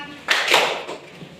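Hands clapping during a classroom lesson, a quick burst of claps that starts sharply and fades out within about a second, fairly close.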